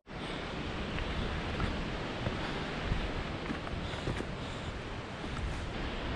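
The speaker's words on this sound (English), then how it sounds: "in the background there's constantly this flow of water" A steady, dense rush of flowing water from small and large waterfalls fills the whole clip, loud and constant, with no voices, on a hike at Comet Falls and Van Trump Park, Mount Rainier National Park.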